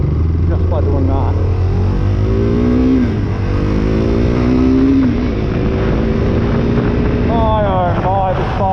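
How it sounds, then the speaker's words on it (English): A KTM 390 Duke motorcycle with a stalling, rough-idle problem is revved up close and loud: the engine note climbs and falls in several sweeping blips over a steady running base. "You don't need to rev it up by much, but you can avoid it from stalling just by doing that."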